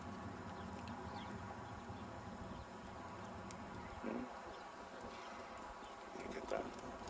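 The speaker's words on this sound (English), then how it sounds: "They ride around the area and practice horses." Horses ridden around the Carson City, Nevada area give off clip-clopping hooves, a steady faint patter of steps with a couple of slightly louder thuds, over quiet outdoor ambience.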